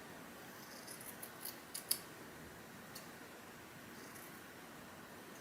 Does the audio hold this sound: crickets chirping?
no